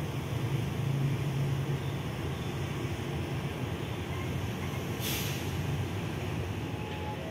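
Empty economy passenger carriages shunted in reverse on an Indonesian railway, a steady low rumble and rolling drone held throughout with a brief hiss near the end, moderately loud and without speech.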